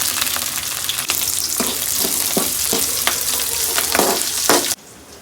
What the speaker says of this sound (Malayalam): സവാളയോടൊപ്പം തന്നെ കുറച്ച് പച്ചമുളകും നമ്മൾ അരിഞ്ഞു വെച്ചിരിക്കുന്ന പച്ചമുളകും ചേർത്ത് കൊടുക്കുകയാണ്